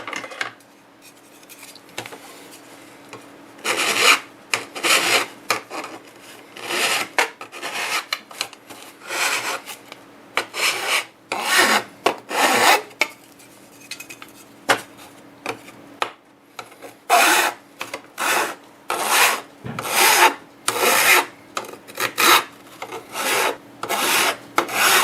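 A rasp files wood in repeated scraping strokes, sparse and uneven at first and then faster and more regular, each stroke a short, bright rasping burst.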